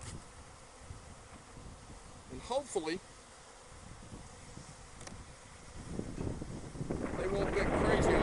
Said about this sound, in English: I sprayed these bees down with a little bit of sugar water.